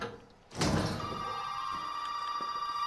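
A telephone rings in the video game Resident Evil 7, a steady sustained bell tone rising after a thump and continuing under quiet ambience.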